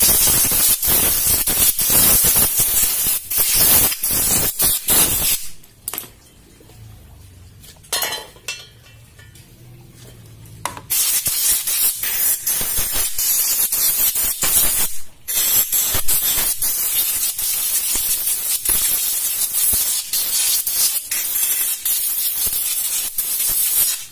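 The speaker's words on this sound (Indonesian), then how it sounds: "Lalu kita semprot." A spray cleaner hisses in long, loud bursts over Yamaha Xeon GT 125 motorcycle parts during a repair, with a quieter pause in the middle and brief clicks between sprays.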